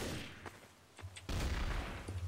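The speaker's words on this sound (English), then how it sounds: "People shooting, man." Gunfire in Trouble in Terrorist Town, a few scattered shots followed by a louder burst of rapid fire, somewhat distant and muffled.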